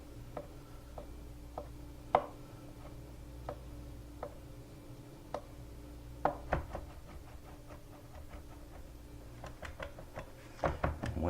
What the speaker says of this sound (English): When I said fine chop, I meant fine.